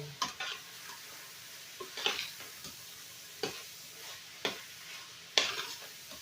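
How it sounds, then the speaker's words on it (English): Bacon and hamburger meat being stirred in a pan for a meat lovers pizza casserole, with several distinct scraping stir strokes at irregular intervals over a soft, steady sizzle, close and fairly quiet, without talk. "And you just want to warm that bacon through and finish off that hamburger meat."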